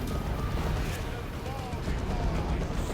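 A grenade goes off in Dawn of War II: Retribution, a Chaos Space Marines battle, as a loud booming burst within dense continuous gunfire and explosion noise, with a voice talking over it.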